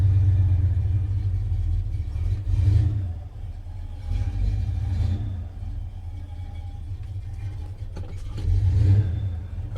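A 1978 Ford F-250 engine idles roughly after a cold start, with a deep, uneven rumble and several throttle blips that swell and fade in the close foreground.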